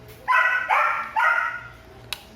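A pet dog barks three times in quick succession indoors at home, close and loud, followed by a short sharp knock.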